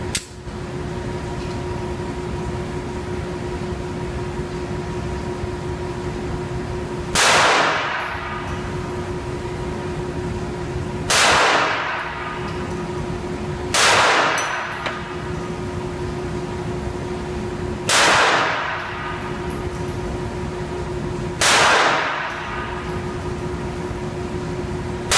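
Kahr CW380 pistol firing Hornady ammunition at a shooting range, five sharp shots spaced a few seconds apart over a steady background hum, no talk.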